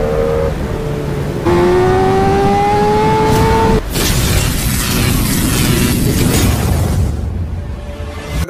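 BMW S1000 RR superbike accelerating hard in first gear on a street in Kolkata, its engine note climbing steadily in pitch, then a sharp break and a loud, rough roar with wind rush.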